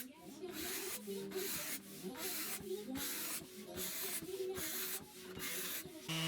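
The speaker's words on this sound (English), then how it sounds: "I did some more sanding to ease over any sharp edges." Hand sanding the edges of a beech waney live-edge slab for a coffee table top: rhythmic back-and-forth rasping strokes, about two per second, close and fairly quiet, with a faint whine in the background.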